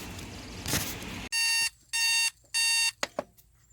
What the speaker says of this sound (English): This is my alarm.